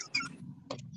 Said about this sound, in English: Maybe it's the sound of my fingernail on the iPhone or on my phone case.